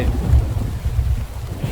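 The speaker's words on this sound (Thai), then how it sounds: "เสียงฝนตกนี่เอง" Steady rain falling in a game world, a dense continuous wash of close rainfall with a heavy low rumble underneath, loud and unbroken with no voices.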